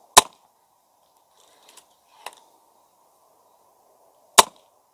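Sharp shots from a SupersonicREV magazine air gun, two loud cracks several seconds apart with a fainter click and pop between them, each cutting through a quiet background.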